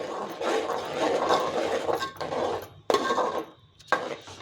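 Curry leaves and spinach are stirred in a pan, with scraping and clinking of a utensil against the metal in irregular bursts close up, then brief pauses.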